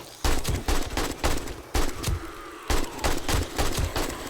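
Turret gunfire hitting a zombie horde in the video game 7 Days to Die on the Day 28 horde night, loud bursts of rapid shots in uneven clusters with short gaps between them.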